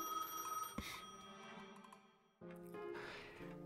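A payphone rings by a church in the video game Dead Eyes, a steady metallic bell tone that breaks off and then resumes, fairly quiet and without speech.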